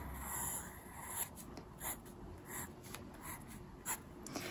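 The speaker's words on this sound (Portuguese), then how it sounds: "Então, vamos desenhar aqui." A pen or pencil scratches across paper while a raglan sweater knitting pattern is sketched out, soft close strokes in short irregular bursts, faint and alone.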